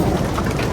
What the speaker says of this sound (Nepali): पानी पनि फेरि बर्सिसक्यो पुरै पानी यति पानी पर्यो आज बिहानदेखि